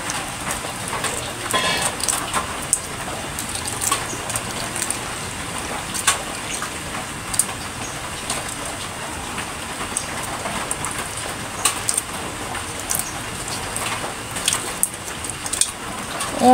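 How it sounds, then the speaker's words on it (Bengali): Continuous rain falls during a flood season, making a dense, even hiss that holds for the whole stretch, with scattered small taps and no clear voices. "অনবরত শুধু বৃষ্টি হইতেছে"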